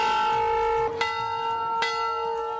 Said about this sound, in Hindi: जहां भक्तों का स्वागत एक बड़ा घंटा करता है